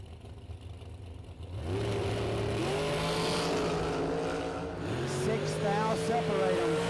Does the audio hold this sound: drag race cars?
yes